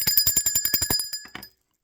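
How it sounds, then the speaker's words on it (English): A small bicycle-style bell rings rapidly about a dozen times in quick succession, bright and close, then a couple of slower final rings before it stops. "I'm going to ring the bell for that."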